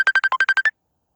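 A phone ringtone from an incoming call plays as a quick run of eight bright, evenly spaced electronic beeps, loud and close, then cuts off to silence.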